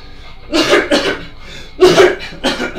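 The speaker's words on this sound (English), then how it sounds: "I really can't get rid of this cough." A person coughs several times in quick, harsh bursts, close and loud, with short pauses between fits.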